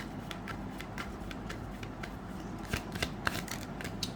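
Tarot cards shuffled and slid from a deck in a steady run of soft papery riffles and flicks, with a few sharper snaps near the end, close and fairly quiet, no talking.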